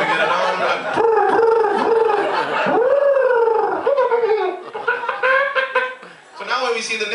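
A person vocally imitates bird and chicken noises, with warbling, clucking squawks that rise and fall continuously for several seconds, close and loud, while laughter mixes in.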